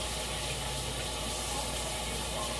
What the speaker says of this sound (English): A way to get it off of your hands is hot water.